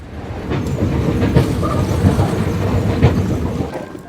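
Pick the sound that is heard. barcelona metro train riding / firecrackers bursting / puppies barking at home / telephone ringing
barcelona metro train riding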